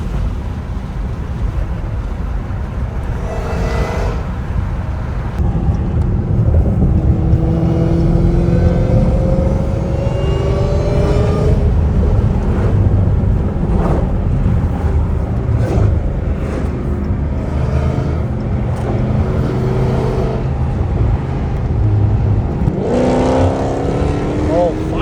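Dodge Hellcat Redeye fitted with a titanium exhaust, revving loudly and steadily with rising and falling engine tones, heavy wind rush, and voices talking over it throughout.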